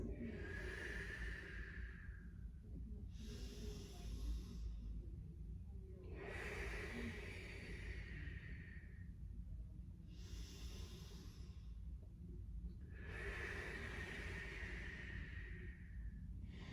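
Slow, deep breaths during a yoga spine extension on a mat: long airy exhales alternating with quieter inhales in an even cycle, close and unhurried with no talk.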